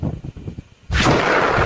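Carbon dioxide bursts explosively out of a lake in Iceland. Murmured voices come first, then a sudden loud roaring blast hits and keeps rushing at full strength to the end.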